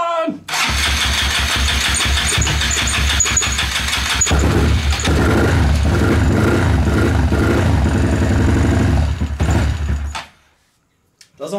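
A Honda Grom motorcycle engine starts and revs loudly and steadily for about ten seconds, struggling to idle with the throttle held open, then cuts off abruptly near the end.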